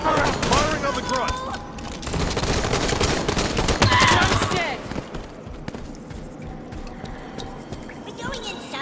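Rapid bursts of automatic gunfire aimed at a grunt in the video game Halo 5, dense and loud at first, then thinning into sporadic shots and effects, with a voice talking over the action.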